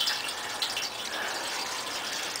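Cold water poured into a speckleware pot beside a parabolic cooker, a steady splashing gush lasting a couple of seconds with no talk.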